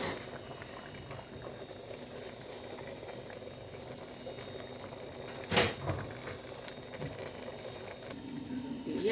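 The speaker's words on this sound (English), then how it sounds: "So I will just cover and allow to cook for another 10 minutes." Egusi soup bubbling in a covered pot, a soft continuous simmering burble with a single louder knock or lid clatter midway, quiet and close, no talking.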